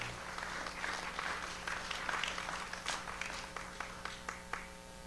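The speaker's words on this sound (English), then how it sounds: "Hand a round of applause, everybody." Scattered audience applause at a film project mixer in Pittsburgh, a moderate patter of claps spread through a room that thins out toward the end.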